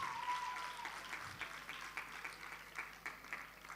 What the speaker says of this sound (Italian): un applauso, forza, grande!